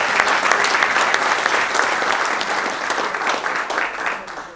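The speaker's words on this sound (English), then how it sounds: "Let's give them another round of applause." A large audience at an evening honors event claps loudly and steadily for several seconds, then the applause slowly fades.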